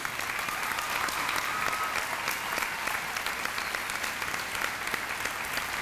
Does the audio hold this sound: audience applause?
yes